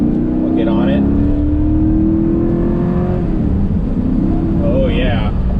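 A 1983 Porsche 928S with a five-speed manual accelerates hard, the engine note climbing steadily before dropping back and rising again, loud and close from inside the cabin.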